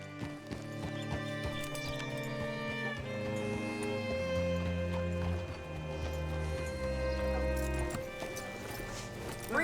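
A horse's hooves clip-clop in Red Dead Redemption 2 beneath a sustained musical score that stays loud and fills the whole stretch.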